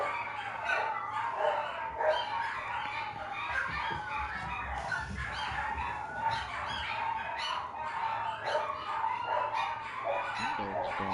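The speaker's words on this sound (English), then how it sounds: "Them dogs are going crazy." Dogs bark repeatedly in Minecraft in hard mode, yapping in quick bursts under game noise and occasional talk.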